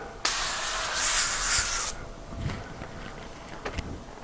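A can of nonstick cooking spray hisses onto plastic wrap in one close, steady burst of about two seconds, followed by soft crinkling and handling of the wrap.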